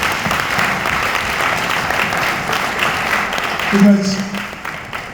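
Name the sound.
audience applause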